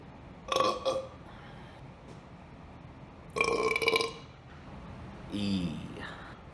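Loud, close belches come after drinks of Baja Blast soda, three separate bursts spaced a few seconds apart over quiet room noise.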